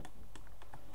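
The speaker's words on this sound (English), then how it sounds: "that might make the keyboard quite loud" Quick clicking keystrokes on a computer keyboard, several taps in an uneven rhythm, close and fairly loud over a low background hum.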